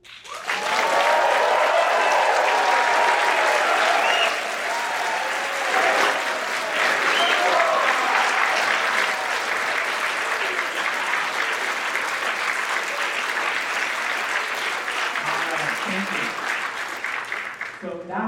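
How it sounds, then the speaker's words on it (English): A charity event audience at Kerr Street Mission breaks into loud, sustained applause with cheers and whoops, a dense wash of clapping that holds steady for many seconds before slowly easing. "I want to hear you hoot and holler, and I want to hear you make noise as we celebrate"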